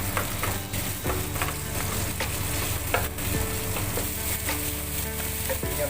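Steady loud sizzling of pork neck stir-fried with chili and salt in a wok, with scraping and clanking of a spatula against the pan throughout.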